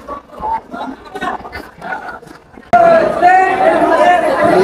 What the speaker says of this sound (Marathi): बेकार गर्दी आहे त्यामुळे धक्काबुक्की चालू आहे